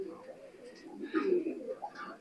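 An older pure Rampuri pigeon gives a soft, rolling coo that swells in the middle and trails off, heard close and quiet in a loft.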